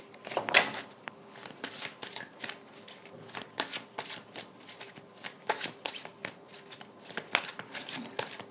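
Tarot cards shuffled by hand, a steady run of crisp riffling and slapping card sounds close up, repeated bursts throughout with no talking.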